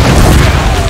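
A fire ship rams and explodes in Age of Empires III, a single loud, deep boom that rumbles through the whole moment.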